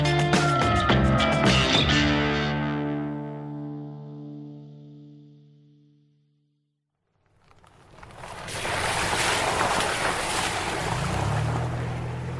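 A boat moves on the open sea off Santa Cruz Island in California's Channel Islands. A ringing musical tone fades out first, then broad, steady rushing water and engine noise rises and continues to the end, with no voices.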